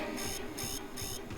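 An alarm in the video game Starfield sounds in a rapid pulsing pattern, bursts repeating about every 0.4 seconds over a constant electronic hum.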